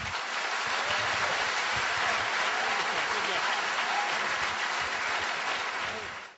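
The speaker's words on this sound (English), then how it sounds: "Let's give him a round of applause." Audience applause at the close of a debate on creation and evolution, a dense, steady clapping from a crowd that holds for several seconds and then fades out.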